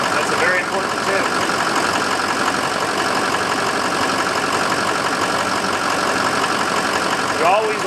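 A Ford F350 with a 6.0 Powerstroke diesel idles steadily in a repair shop, a constant close clattering drone while someone talks over it.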